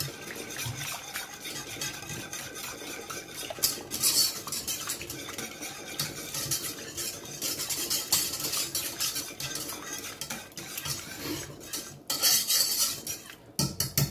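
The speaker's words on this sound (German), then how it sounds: "dann können wir das Werkzeug wechseln und gehen zum Schneebesen. Immer rühren," A whisk works steadily through an egg mixture with medium-hot mustard in a bowl, giving continuous metallic scraping and clinking against the bowl for a long stretch, with a few louder clattering bursts near the end.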